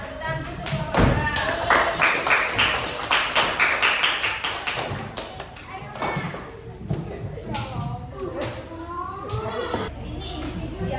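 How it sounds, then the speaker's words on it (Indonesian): Primary school students in a class clap hands for a group, a dense burst of quick claps near and far that builds, then thins into scattered claps as children's voices chatter. "Nah, tepuk tangan untuk keluarga."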